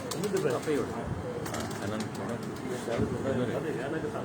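Young pigeons cooing and fluttering in an open loft setting, soft burbling calls and occasional wing flaps at moderate distance, heard under people talking.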